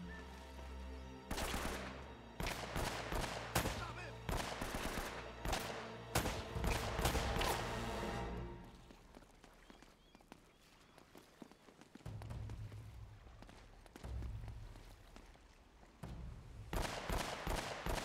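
Rapid gunfire in Uncharted: Drake's Fortune rattles in loud bursts of sharp shots, a heavy firefight for the first several seconds, then quieter scattered movement and ambience before another volley of shots near the end.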